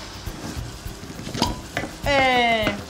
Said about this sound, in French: On va le faire revenir à feu doux.